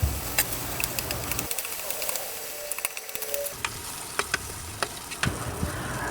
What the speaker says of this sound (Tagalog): Igisa na natin lahat ng kailangan. From onions, hotdog, vegetable, and some pork.